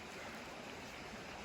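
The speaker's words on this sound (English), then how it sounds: "You follow this beautiful creek for about, a good half to 3/4 of a mile." Creek water flowing steadily along a hiking trail in Uwharrie National Forest, a continuous close rushing wash with no voices.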